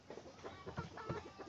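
Backyard chickens, mostly hens with a couple of roosters, cluck in short, soft, repeated bursts close by on a small pasture farm.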